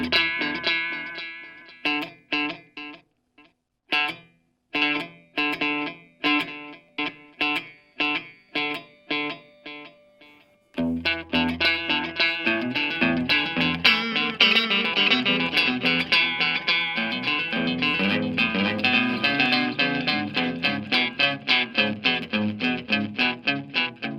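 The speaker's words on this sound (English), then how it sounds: "even though I'm hitting the string one time, you hear two, and that's called slapback echo" Electric guitar notes plucked with a slapback echo, each single pick doubled by a quick repeat; sparse separate notes at first, then a denser run of picked notes, loud and close with no talking.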